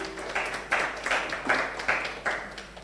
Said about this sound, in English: Another round of applause for Erin.